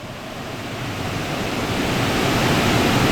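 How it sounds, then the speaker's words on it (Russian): Synthesized wind from the DSP Motion sound-design plugin swells from a light breeze toward a squall, a continuous broadband rushing hiss that grows steadily louder with no other sounds. "слабый ветерок усилится до шквалистого ветра"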